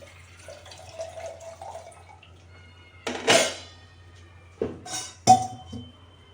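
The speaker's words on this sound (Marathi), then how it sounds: "त्यात एकदम गरम उकळतं पाणी टाकायचं आहे एक तांबे पाणी" Boiling water is poured into horse gram flour in a few short splashing bursts with light clinks of a metal vessel, set against an otherwise quiet kitchen.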